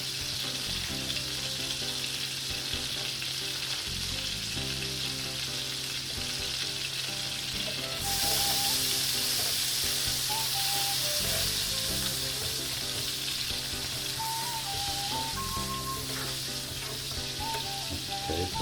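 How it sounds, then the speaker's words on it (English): Garlic sizzling in melted butter in a pan for salmon with creamy spinach sauce, a loud continuous crackle that swells partway through, alone without talk. "once your butter's melted, you're going to go in with your garlic and get that nice and toasted"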